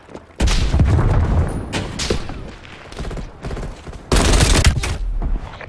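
A grenade explosion and bursts of gunfire in Call of Duty Black Ops Cold War multiplayer, with two loud heavy blasts a few seconds apart, crackling shots between them and the noise fading after each blast.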